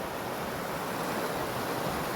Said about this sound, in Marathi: मग समोर एक धबधबा दिसतो